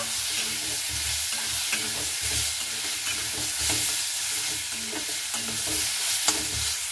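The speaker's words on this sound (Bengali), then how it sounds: "এবার আমি শাকটাকে খুব ভালো মতো করে নাড়াচাড়া করে নেব।" Spinach greens are stirred in a hot frying pan, giving a loud, continuous sizzle with rhythmic scraping and rustling strokes throughout and no voices.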